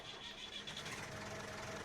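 A Lizard F10 tractor engine in Farming Simulator 22 starts up and settles into a steady, dense mid-pitched running rumble that stays close and loud for the whole moment, with no talking.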